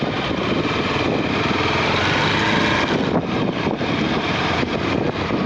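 A motorcycle engine runs loud and close with a steady buzzing drone while the bike is turned around on a narrow road, the tone wavering slightly as it manoeuvres, with no voices.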